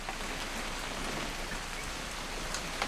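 Steady rain falling in the video game What Remains of Edith Finch, a continuous dense hiss of drops on surfaces with no voices.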